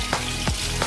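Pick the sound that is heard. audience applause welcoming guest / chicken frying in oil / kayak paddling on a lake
chicken frying in oil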